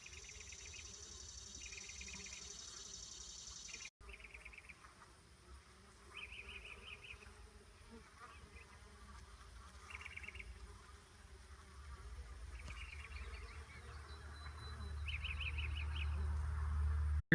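Bees buzz around a nectar feeder in a homestead garden, faint overlapping hums that rise and fade as individual insects fly near and away, over a quiet outdoor background.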